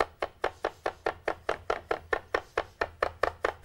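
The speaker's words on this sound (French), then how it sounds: "maintenant je vais les hacher." Knife chopping mushrooms on a cutting board for duxelles, about sixteen crisp, evenly paced chops in a fast steady rhythm, close and distinct with no speech.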